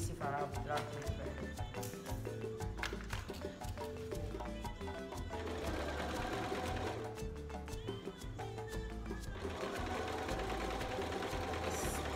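A sewing machine stitches blue dress material in steady, rapid mechanical bursts, close and continuous, with brief pauses and faint background sounds.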